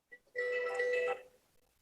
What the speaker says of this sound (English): I should have shut my phone off